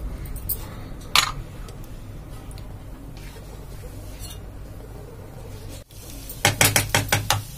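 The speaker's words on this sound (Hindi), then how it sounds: "आधी मैगी हम पैन में रखने देते हैं। इसमें हम मेयोनीज मिलाते हैं।" Maggi noodles are mixed with mayonnaise in a pan: a low, quiet background gives way near the end to a quick run of spoon clinks and scrapes against the pan.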